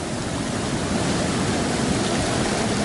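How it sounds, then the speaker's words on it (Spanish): Rough sea swell and surf rolling in during a spin-fishing outing on the coast, a steady, dense wash of crashing water filling the whole stretch without pause. "con este oleaje, mira esto"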